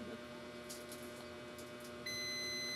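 A steady electronic multimeter continuity beep switches on partway through and holds continuously over a faint hum, sharp and close, testing a shorted component on an ASUS X515E laptop board.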